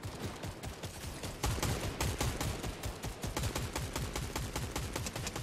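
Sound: gunfire in the video game Fortnite

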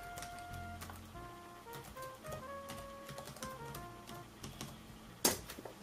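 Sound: typing on a laptop keyboard

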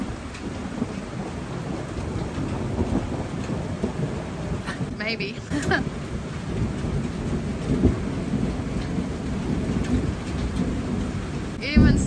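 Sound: thunderstorm with thunder and rain

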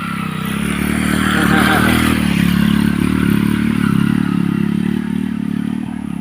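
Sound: motorcycle passing by

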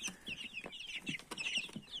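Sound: chicks chirping in brooder box

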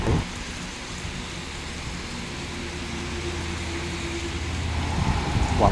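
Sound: heavy rain falling

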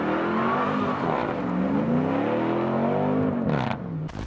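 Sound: American car V8 engine revving

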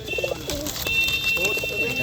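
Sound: pigeons cooing

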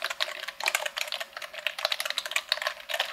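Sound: typing on a computer keyboard

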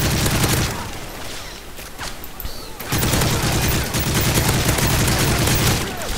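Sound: gunfire in the video game Call of Duty MW3

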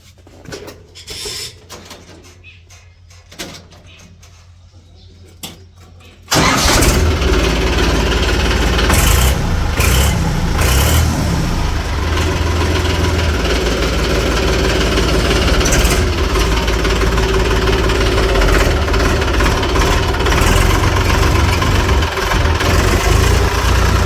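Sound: tractor engine starting and idling

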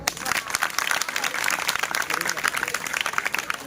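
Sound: applause

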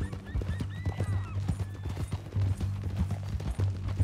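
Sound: horse neighing and hooves in the video game Red Dead Redemption 2

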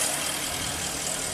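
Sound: Porsche engine idling

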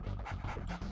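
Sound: attack dogs in video game Red Alert 2

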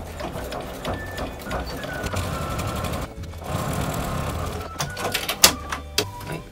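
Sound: sewing machine stitching felt pouch

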